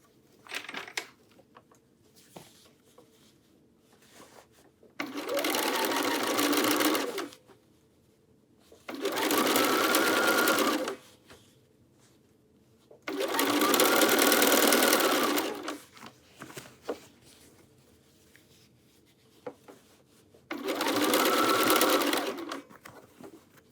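Sewing machine stitching binding onto a quilted jacket, running in four sustained bursts of a few seconds each, separated by quiet pauses with small handling clicks as the fabric is rotated around the hood.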